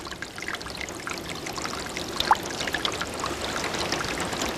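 A stream flows through a chestnut grove in Corsica's Alta Rocca, a steady close trickling and pouring of water with small splashes, moderately quiet and without voices.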